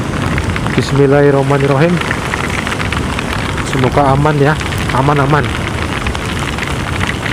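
Steady heavy rain patters and hisses throughout a motorcycle ride through forest in Central Java, loud and continuous, while a rider speaks briefly in between.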